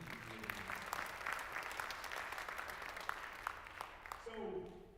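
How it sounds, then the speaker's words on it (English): A crowd gives a quick round of applause at a Dr. Martin Luther King Jr. Day event. The clapping is fairly faint and steady, with scattered sharper claps, and a voice speaks over it as it dies down. "let's give a quick round of applause"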